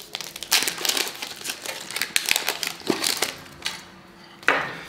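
A trading card booster pack's plastic wrapping is torn open and crinkled by hand, giving close, irregular crackling bursts that come and go for a few seconds.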